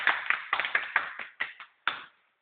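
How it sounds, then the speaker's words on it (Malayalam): Claps from a comedy show crowd in Malappuram come as a short, sharp burst that is quick and evenly spaced at first, then thins to a few scattered final claps and stops. "എല്ലാവരും ഒരു കൈയടിച്ചേ."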